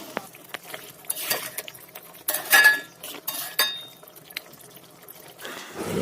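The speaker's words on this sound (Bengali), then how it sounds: "দেখো কড়াইতে আমি মাংসগুলো দিয়ে দিয়েছি আর কিছুক্ষণ ধরে কষাচ্ছি" Chicken being stir-fried in a wok, close and moderately loud, with bursts of metal spatula scraping and clatter against a wet, hissing background that rises and falls irregularly.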